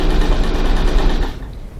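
An old Janome sewing machine stitches with a steady, fast mechanical whirr, loud and close for most of the stretch, then slows and fades near the end with no talking over it.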